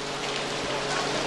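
Steady broadband hiss of artificial rain pouring from an overhead, upside-down sprinkler rig on a studio backlot tour, a continuous even wash with no breaks.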